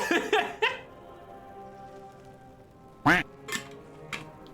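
Duck quack notification chimes from World of Warcraft, a few bright nasal quacks at the start and another cluster a few seconds later, clear and close with quiet between.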